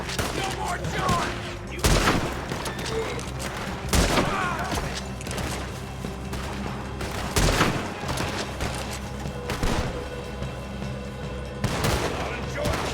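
Dense gunfire rings out in a Red Dead Redemption 2 shootout at Clemens Point, with heavy, rapid shots and booming blasts piling up over a steady rumble, loud and close throughout.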